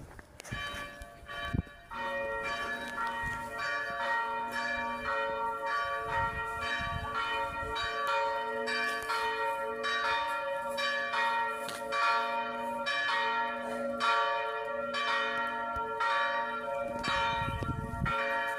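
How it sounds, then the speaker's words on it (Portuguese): Church bells ring continuously in a rich, layered peal, many strikes overlapping with a steady rhythm, loud and close, with no voices. "não haverá também mais o barulho desses sinos"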